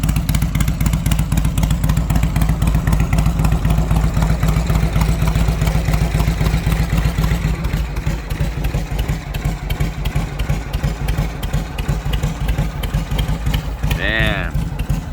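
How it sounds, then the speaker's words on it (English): A 1973 Harley-Davidson Shovelhead 1200cc with an aftermarket cam idles close and loud, a steady lopey, uneven thumping throughout, with a brief higher whine near the end. "sounds like one of those old school hit and miss engines"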